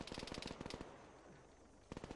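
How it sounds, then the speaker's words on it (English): Distant automatic gunfire on a hill in the video game Arma 3, a rapid burst of shots followed by a pause, then a second short burst, faint overall. "Some gunfire up on the hill there."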